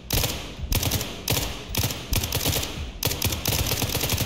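Bursts of rapid automatic gunfire in the video game SCP: 5k, several loud sustained volleys broken by short gaps, close and harsh.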